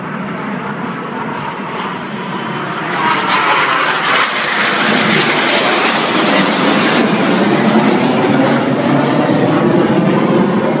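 Red Arrows jets flying an aerobatic display at Torquay, a broad roaring jet wash that swells louder partway through and holds steady as the formation passes overhead.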